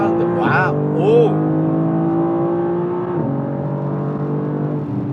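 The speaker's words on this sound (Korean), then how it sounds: "스포츠 모드로 놓고 갑니다. 잠깐 속도 좀 올려볼까요?" BMW M2 in sport mode accelerating hard, its engine note rising steadily with a brief gearshift drop midway, heard loud and close from inside the cabin, with voices exclaiming over it.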